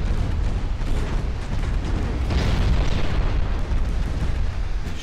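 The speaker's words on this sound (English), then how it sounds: "torpedo hits on the Brooklyn" Torpedo striking the ship Brooklyn in a naval war video game, a sustained rumbling explosion with heavy low booming that swells and rolls on, loud and without voices.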